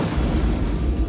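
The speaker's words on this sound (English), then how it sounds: "big noise, big explosion" A demolition blast meant to bring down two tower blocks rumbles as a dense, loud low boom that holds steady for about a second, with no voices.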